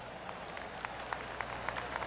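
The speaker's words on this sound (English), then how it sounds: "Oh, golf clap." Scattered polite golf claps ripple from a small gallery crowd in a PS4 golf video game, soft and steady over a low ambient hush, with a few sharper claps standing out.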